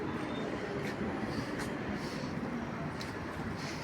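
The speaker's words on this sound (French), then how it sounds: "puis voilà, vous avez le tramway" A tram passing at Porte de Vincennes in Paris's 20th arrondissement: a steady broadband rumble of wheels on rail with faint high squeals, close and continuous amid street traffic.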